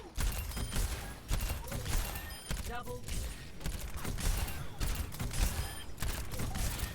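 Baptiste in Overwatch fires bursts of rapid shots between heals, giving a repeating pattern of loud, punchy gunfire clusters with brief gaps, while someone talks over the action.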